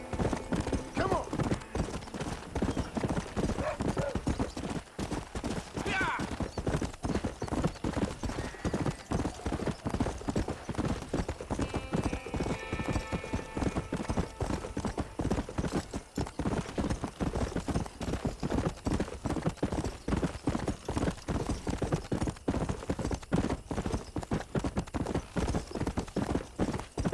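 Horse hooves clip-clop steadily and close in Red Dead Redemption, a dense, even rhythm of hoofbeats that runs throughout with a few brief snorts or whinnies over the top.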